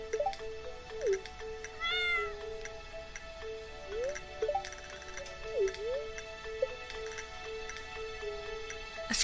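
A cartoonish cat meows a few times in the farming video game Stardew Valley, chirpy calls set over steady background game music and soft ticking sounds, no talking.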